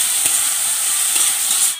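Tomatoes added to hot masala in a pan make a loud, close, steady hissing sizzle that holds for nearly two seconds before dropping off suddenly at the end.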